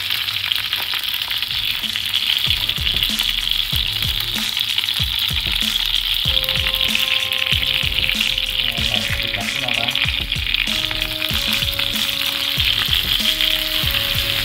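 Fish sizzles and crackles steadily in hot oil in a pan, loud and continuous, with stirring and scraping noises and some low tonal sounds partway through.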